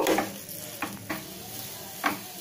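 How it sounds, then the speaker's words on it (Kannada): Smashed potatoes fry in oil in a pan, a steady soft sizzle with a few scraping stirs of a spoon at irregular intervals, close and moderately quiet, no voices. "ಈಗ ಈ ಆಲೂಗಡ್ಡೆನ ಒಂದು ನಿಮಿಷ ಫ್ರೈ ಮಾಡ್ಕೊಳ್ಳೋಣ"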